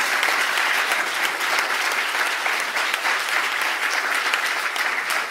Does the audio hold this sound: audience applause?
yes